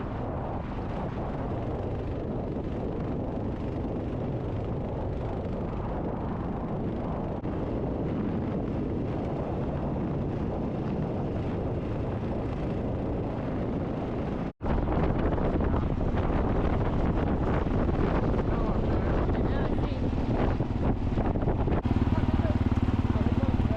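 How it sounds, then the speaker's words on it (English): On a two-up KLR 650 dual sport ride through Idaho's Owyhees, strong wind buffets the microphone in a constant loud rush over the low drone of the motorcycle, with a brief dropout partway through. "it's just really windy out here"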